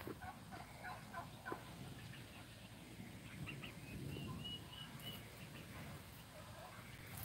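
Turkeys gobble at a farm with chickens and geese nearby, faint and distant bursts of gobbling over quiet outdoor background noise.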